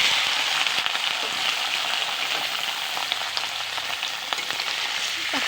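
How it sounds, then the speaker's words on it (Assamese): Paneer pieces fry in a pan of oil, giving a steady, close, dense sizzle with faint crackles that runs unbroken throughout with no talk over it. "এতিয়া মই পনীৰখিনি ধুনীয়াকৈ অলপ ভাজি ল'ম।"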